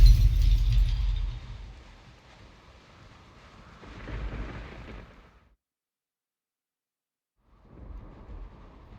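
Thunder rumbles through a stormy scene in the video game Witcher 3, with a loud crack at the start, a second rolling swell mid-clip, then near silence before another low rumble returns. No voices are heard.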